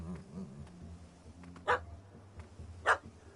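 A dog in The Witcher 3 barks twice at a cat up a tree, two short sharp yaps well spaced over low game ambience and a faint insect buzz.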